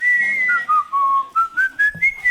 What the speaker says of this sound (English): He's whistling the wolf